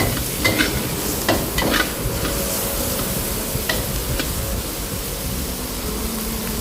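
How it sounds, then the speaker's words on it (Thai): Shrimp and vegetables stir-fry with curry powder in a hot pan, giving a continuous sizzle with scraping stir strokes early on and a steady frying hiss throughout, no talking. "ใส่ผักที่เราเตรียมไว้ค่ะ เติมน้ำซุปเล็กน้อยนะคะ แล้วผัดให้เข้ากัน แล้วก็เติมผงกะหรี่ลงไปค่ะ ผัดให้ผงกะหรี่หอมนะคะ"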